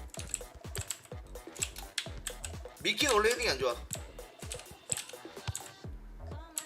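Computer keyboard keys clatter steadily during a FIFA Online 4 match, the typing running under continuous close talk from a player.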